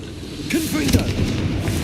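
A Confringo explosion spell goes off in the Hogwarts Legacy video game: a short fiery burst with a crackling tail, one or two quick blasts over a low rumbling game background.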